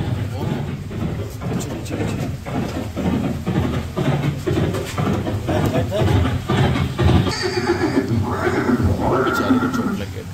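Chetak, the horse of Maharana Pratap, neighs, heard under steady narration together with rhythmic pulsing sounds and a rising, whinnying cry near the end.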